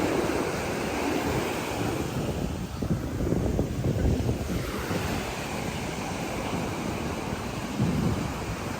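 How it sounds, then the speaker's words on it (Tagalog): Ocean waves wash in at a river mouth as a steady, broad roar, with surges swelling and easing and wind buffeting the microphone, and no one speaks. "Baka alon lang yan, mami. Baka alon lang."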